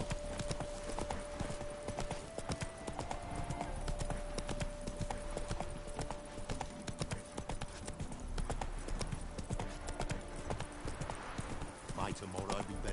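Hooves of a galloping horse in the video game The Witcher 3: Wild Hunt, a fast steady clip-clop over game music and ambience, with a voice speaking at points.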